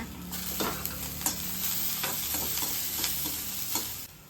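Dried red chillies and ginger pieces sauté in a pan, a continuous close sizzle with repeated scraping and stirring strokes.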